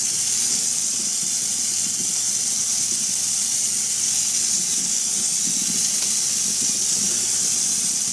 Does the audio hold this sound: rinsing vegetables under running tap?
yes